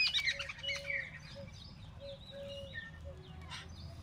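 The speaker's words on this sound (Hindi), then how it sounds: "अभी हम लोग दाना डालेंगे चिड़ियों को।" Small birds being fed scattered grain give faint, repeated chirps and short tweets at a moderate distance over a quiet outdoor background.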